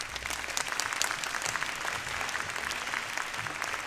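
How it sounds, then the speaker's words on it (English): An audience at a middle school winter band concert applauds the school staff, producing a continuous wash of many hands clapping at moderate volume, filling the room evenly with no speech. "Can you give them a round of applause?"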